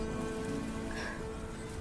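Rain falls steadily in a cartoon scene, an even, continuous patter on surfaces heard close and unbroken for a couple of seconds, with no voices.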